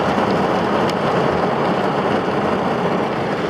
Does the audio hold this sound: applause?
no